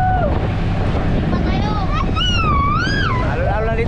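Wind and lapping waves rush steadily around a boat, with a voice talking over the constant noise.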